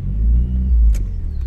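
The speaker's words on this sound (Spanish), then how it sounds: "reversa, clutch al fondo, con la palma, metemos ahí la reversa" A car fitted with hand controls pulls away in reverse with a manual clutch, giving a deep engine rumble that swells briefly, close and steady, with a short mechanical click near the end.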